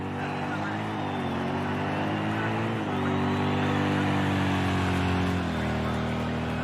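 A Corvette race car engine roars steadily at Laguna Seca in a racing video game, a loud sustained drone whose pitch shifts slightly with gear changes and throttle, with a commentator talking over it.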